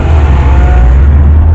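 A car engine rumbles loud and close with a deep, throaty exhaust note, holding a steady low growl for a moment.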